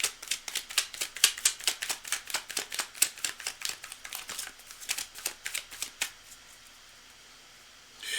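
A deck of tarot cards is shuffled in quick riffling bursts, a rapid run of crisp close clicks for about six seconds before stopping into quiet.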